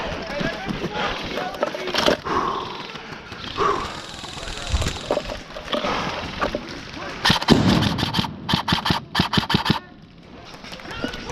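Airsoft guns firing during an outdoor airsoft game, with a rapid string of sharp cracking shots near the end after scattered pops, while players shout and talk throughout.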